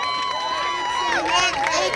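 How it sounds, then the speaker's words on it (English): Outdoor political rally crowd on Amsterdam Avenue cheering, with voices raised together in a brief, moderately loud burst of whoops and shouts over about two seconds. "I like that cheer."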